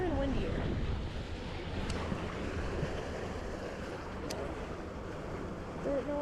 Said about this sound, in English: It's getting windier and windier.